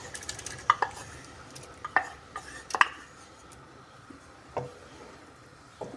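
Scattered clinks and scrapes of a utensil stirring boiling sago in a pot, irregular and fairly faint, with no talking.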